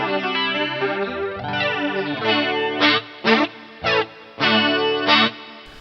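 JOYO DC-15S battery-powered guitar amp with a phasing effect switched on: sustained, swirling electric guitar chords with a sweeping modulated tone, then several loud, choppy strummed bursts separated by short gaps.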